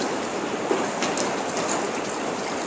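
Steady rain falling outdoors, a dense uniform hiss of drops on surfaces with a few slightly sharper patters, continuous throughout.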